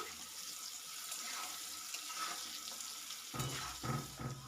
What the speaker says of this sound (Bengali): এইভাবে নাড়াচাড়া করে আমি এগুলোকে ভেজে নিচ্ছি